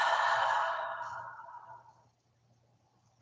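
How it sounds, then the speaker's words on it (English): A long, breathy exhale out through the mouth, close and soft, fading gradually over two seconds into silence, followed by a faint start of another sound at the end. "Exhale through your mouth."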